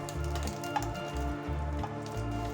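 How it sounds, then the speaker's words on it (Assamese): Chicken fried rice fries in a pan, giving a soft, faint sizzle with a pulsing low rumble as the rice is tossed and stirred. "প্ৰায় 2 মিনিটমান ভাজি ল'ম বেছি সময় ভাজি মই একেবাৰে সিজাই নিদিওঁ অলপ ক্ৰাঞ্চি হোৱালৈকে ভাজি ল'ম"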